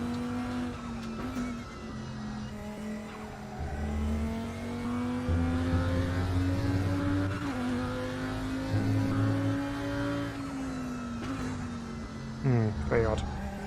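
A race car engine in the RaceRoom sim racing game revving through its rev range, a loud sustained droning whine that rises and falls through several gear changes, with brief tire squeal near the end and someone talking over it.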